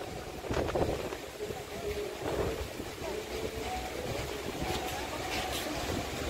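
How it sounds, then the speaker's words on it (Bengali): Strong wind at Sinquerim Beach in Goa buffets the microphone in a constant, gusty roar, with surf likely beneath it. A voice speaks briefly over the blustery noise. "প্রচন্ড হাওয়া হচ্ছে।"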